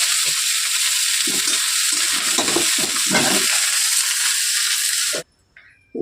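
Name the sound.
frying cauliflower in a wok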